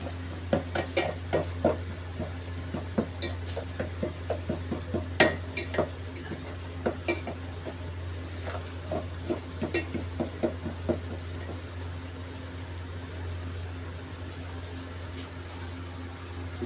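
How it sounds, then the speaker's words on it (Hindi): Semolina roasting in a pan for halwa is stirred with a utensil, which gives soft, irregular scrapes and clinks against the metal over a low steady hum. "मैं इसको थोड़ा सा और भून लूँ, उसके बाद में देख सकते हैं कि हमारी सूजी भून चुकी है"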